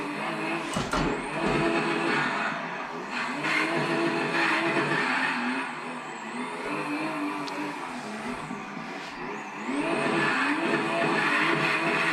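A drift car's engine in the Assetto Corsa racing game, played on a custom drifting simulator, drones and revs steadily and loudly throughout, with brief tire-squeal-like bursts and no talking.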